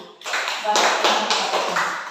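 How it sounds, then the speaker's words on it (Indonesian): A primary school class clapping hands together, a short burst of several rhythmic claps in a room, with voices mixed in. "Tepuk tangan dulu."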